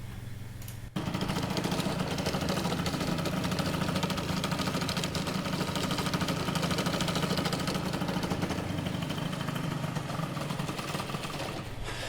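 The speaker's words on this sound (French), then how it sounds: "le moteur, il a du mal à tenir le ralenti" A car engine starts and runs at a rough, uneven idle, chugging and knocking steadily up close for several seconds, no voices.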